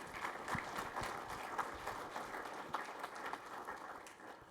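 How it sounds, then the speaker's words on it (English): Audience clapping for a presenter at the end of a talk on sow farm costs, a moderate, somewhat distant patter of many hands with scattered sharper claps, steady throughout. "Let's give Dave a round of applause"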